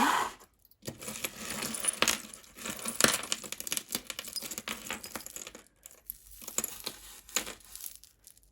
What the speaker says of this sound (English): a tip for untangling necklaces, I find it sometimes helps just to undo the clasps and then you can pull the other end through